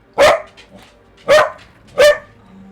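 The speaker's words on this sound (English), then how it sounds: "My love, you cannot be barking on stream." A pet dog barks three times indoors, loud and close, with sharp, evenly spaced single barks separated by brief quiet gaps.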